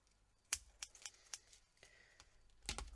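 Scissors trimming the edge of a small handmade clog sole, a few faint, sharp snips spaced irregularly in a quiet room.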